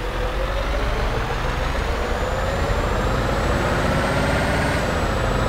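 Scania R730 truck engine in a driving video game, revving loudly and steadily as it accelerates, with a rising whine climbing over a continuous low rumble.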